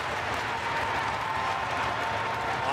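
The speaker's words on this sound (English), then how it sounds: "the crowd comes to life" Crowd at a women's bandy bronze medal game between USA and Norway, cheering and applauding as play winds down; a steady, dense wash of clapping and voices with no breaks.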